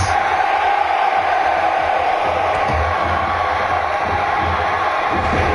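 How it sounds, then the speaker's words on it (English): A crowd cheers steadily at a Bronx wrestling show in the video game WWE 2K17, a dense, constant roar filling the whole stretch with no break. "Belly to back suplex by Bobby Eaton, who's got this crowd wound up here in the Bronx."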